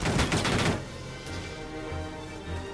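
Enemy gunfire in the Valkyria Chronicles 4 video game: a short, loud rattle of rapid automatic shots gives way to a quieter, lingering din of battle.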